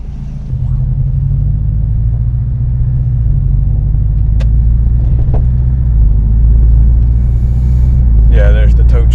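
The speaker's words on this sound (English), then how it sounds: "Yeah, there's the tow truck." A tow truck pulls in with a low engine rumble that builds steadily and stays close and loud, while people talk over it.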